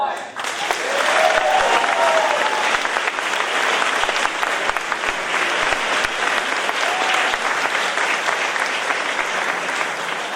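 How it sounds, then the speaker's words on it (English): Sustained applause from a graduation ceremony audience for the class of 2024, dense and steady for about ten seconds, with a few faint voices and whistles rising above the clapping. "The applause and love is for you too."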